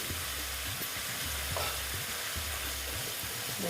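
Turmeric and spices with a splash of water are stirred for a vegetarian bottle gourd ghonto, giving a faint sizzle and soft rhythmic scrapes of a spatula in a pan, heard alone.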